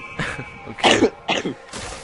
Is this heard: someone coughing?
yes